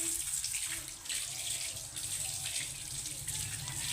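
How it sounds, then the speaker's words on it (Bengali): Tap water flows steadily into a basin while hands are washed for wudu, an even splashing stream close by with slight shifts as the hands move through it. "সর্বপ্রথমে আপনি এসে দুটো হাত ভালোভাবে ধৌত করবেন"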